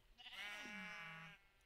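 A single sheep in a modded Minecraft-style video game world lets out one clear, drawn-out bleat that wavers and falls in pitch, fairly quiet and isolated.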